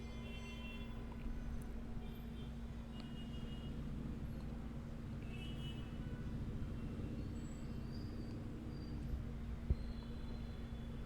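Low, steady street traffic drifts in through a room alongside the constant hum of a fan, with faint distant car horns now and then and one small knock near the end; no one speaks.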